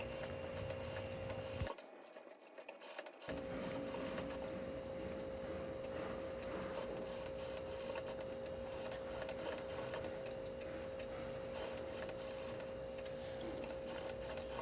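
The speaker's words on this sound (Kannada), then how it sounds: "ಎಲ್ಲ ಸುತ್ತಲೂ ಸ್ಟಿಚ್ ಹಾಕೊಂಬನ್ನಿ" A sewing machine hums continuously while stitching lehenga fabric with lining for a girl's outfit, pausing briefly near the start before running on steadily, with no talking.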